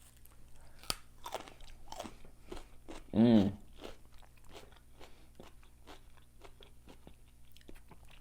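Raw carrot and celery sticks dipped in sweet barbecue sauce are crunched and chewed close to the mic: one loud bite, then a run of soft, rhythmic chewing crunches, with no talking.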